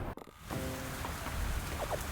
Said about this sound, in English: The rains in this game is a lot more intense than I remember it being.